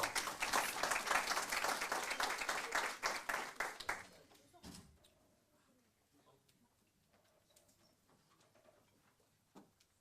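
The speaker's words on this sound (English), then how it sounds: "Please give her a wonderful applause" An audience at a youth investment summit in South Africa applauds Jessica Mgidi with steady, full clapping for about four seconds before it fades into a quiet room with faint scattered noises.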